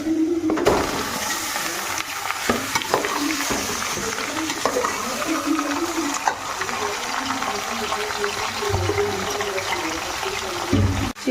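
Chicken pieces added to a pot of browned frying onions for biryani, giving a steady sizzle and wet stirring scrapes throughout, with occasional clanks and a person talking over it.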